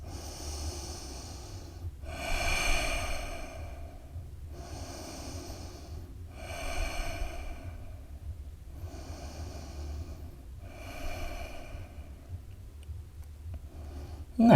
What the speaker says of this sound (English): Three more deep breaths.